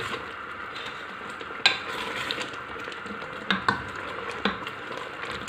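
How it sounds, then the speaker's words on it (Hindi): A spoon stirs a thick pot of dal with kulfa (purslane) greens, sending a soft steady simmer under scattered sharp clinks and scrapes against the pot. "साथ साथ चम्मच चलाती जा रही हूँ ताकि जो पत्ते हैं वो भी इसमें मिक्स हो जाएं अच्छी तरह से"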